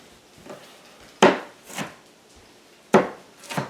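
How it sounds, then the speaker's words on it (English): A knife dices red onion on a wooden board, with a few sharp, close chops separated by softer scraping strokes, irregularly spaced. "Alex is dicing some red onion."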